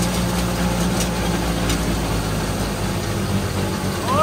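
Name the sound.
Ford Fusion engine running and bogging down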